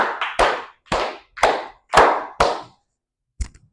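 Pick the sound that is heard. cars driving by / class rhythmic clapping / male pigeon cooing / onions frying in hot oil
class rhythmic clapping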